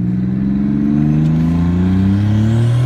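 A twin-turbo Camaro with an L36-block 3800 V6 accelerates hard, its engine note climbing steadily in pitch through the revs, loud and close, with no talk over it.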